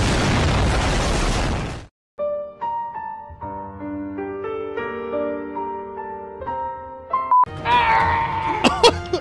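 A bazooka shot explodes in a Hulk video game as a loud, broad blast lasting nearly two seconds, then cuts to near-silence, followed by a stretch of tonal music and a second burst of noisy impacts near the end.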